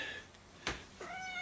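A cat meows twice in quick succession, close by and fairly quiet, with a brief sharp noise between the calls.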